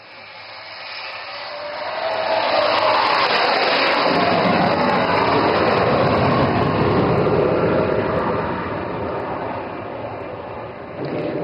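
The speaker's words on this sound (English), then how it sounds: "Bhadoria with Flight Lieutenant Benipal, is now coming in for an overshoot." Military jet aircraft roaring low overhead during an overshoot above a highway airstrip in Assam, a loud broad rushing engine noise that swells over the first seconds, holds, and then eases slightly.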